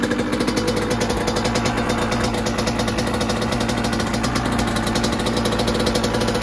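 A motorcycle engine runs after a kick start, a steady close idle with fast, even thumping pulses and a slightly rough, knocking edge throughout.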